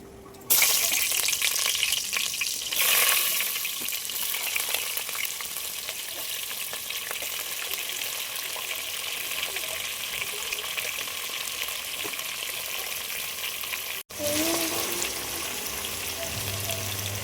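Onions frying in oil for chicken biryani, a loud steady sizzle that starts abruptly and continues close by, with a brief sharp burst early on and a short break near the end.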